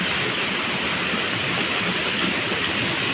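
A small stream flows with a dense, constant rush of water, close and even, with no voices over it.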